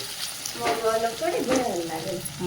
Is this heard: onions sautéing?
yes